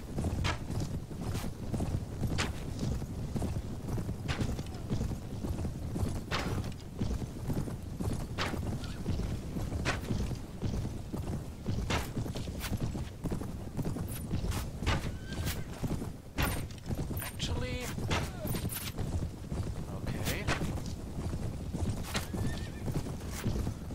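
Horse hooves clip-clop in a steady galloping rhythm in the Mount & Blade game, with repeated neighs and whinnies cutting through, loud and close throughout with no voices.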